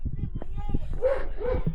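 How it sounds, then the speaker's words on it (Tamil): A dog gives a couple of short barks and yips amid rural village sounds along a walking and hitchhiking trip in India, mixed with voices talking close by. "நாய் வேறு சவுண்டு கொடுக்குது"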